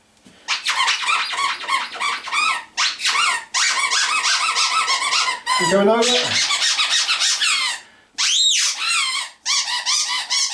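Three-week-old Berger Blanc puppies squeak in loud, rapid high-pitched bursts nearly nonstop at close range, with brief pauses between runs, while people talk briefly in the background.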